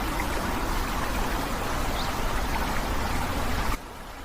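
River water flowing by a jungle bank, a loud, steady rushing wash that cuts off abruptly near the end, with no voices.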